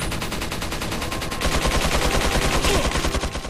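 Rapid bursts of player gunfire in Resident Evil 4 on Pro Mode, steady repeated shots that grow louder and denser partway through, with no talking.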